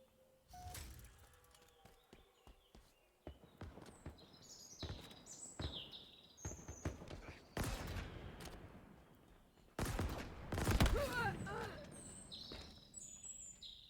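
Stalker rifle gunfire in the video game Halo Infinite: several loud, sharp shots at irregular intervals, mixed with other game effects and chirpy background sounds. A player talks over the action.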